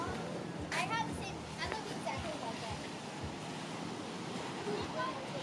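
Steady surf of the Sea of Cortez washes along a beach, with children's distant voices and chatter carrying over the rushing waves.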